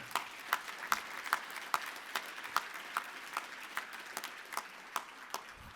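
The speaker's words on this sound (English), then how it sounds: "You should clap for that." An audience at a Martin Luther King Jr. community leaders celebration claps in a steady, sparse rhythm, individual claps ringing out in a quiet hall over several seconds.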